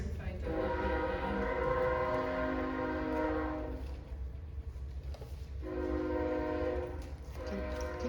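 A passing train sounds its horn in long sustained blasts, with a brief break midway before the horn returns, over a steady low rumble of the cars rolling by close and loud.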